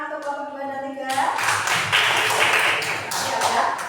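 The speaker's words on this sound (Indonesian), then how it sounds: "Beri tepuk tangan untuk kelompok 2 dan 3." A classroom breaks into clapping for two student groups right after a spoken prompt, a dense close patter of many hands continuing steadily to the end.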